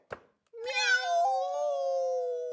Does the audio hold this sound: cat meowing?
yes